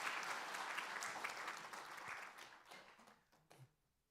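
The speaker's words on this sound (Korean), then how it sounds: "우리 잘 다녀오라고 박수로 격려해 주시기 바랍니다" A church congregation at a Sunday morning worship service breaks into dense, sustained applause that gradually thins and fades out over a few seconds.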